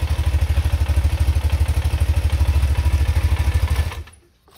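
A BMW Airhead motorcycle engine idles cold, close by, with a steady, lumpy, rhythmic pulsing that stops abruptly just before the end, leaving near silence.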